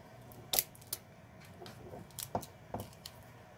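Snippers cutting through the wiring of a laptop battery pack: a few sharp, separate snips and clicks spread over several seconds, close and fairly quiet, with no talking.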